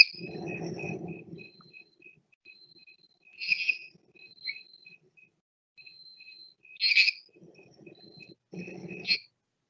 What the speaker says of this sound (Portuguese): E essa aqui é uma rã-pimenta, né? Um Leptodactylus labirínticos.